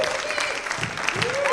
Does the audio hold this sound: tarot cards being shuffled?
no